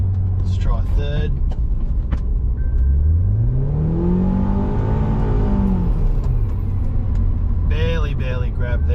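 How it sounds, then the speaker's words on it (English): A Honda Accord CL9 engine revving in second gear with a worn, slipping clutch, the engine note sweeping up and falling back without the car pulling; loud and close, with someone talking before and after the rev. "Clutch slip, clutch slip. Not really accelerating."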